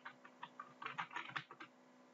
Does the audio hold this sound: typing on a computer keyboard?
yes